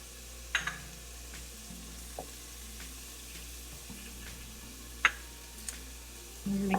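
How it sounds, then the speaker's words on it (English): Garlic and ginger fry with softened, golden onions in a pan for a vegan coconut curry pumpkin soup: a steady low sizzle throughout, with a few sharp clicks and taps of a utensil against the pan, close by and without talk. "Okay, these onions are soft and turning kind of golden, so we're going to add in our garlic and our ginger next."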